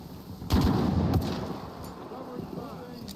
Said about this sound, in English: Guys are just shooting at a wall.